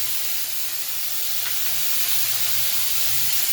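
Green chillies fry in a pan with a steady, soft sizzle and light hiss that holds evenly throughout, fairly quiet and alone with no talking.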